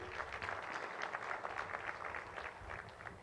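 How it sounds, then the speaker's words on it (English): At a Uganda–South Africa trade summit, a large audience claps steadily for the sponsors, a dense, even patter heard from some distance in a big hall. "Please give them a round of applause."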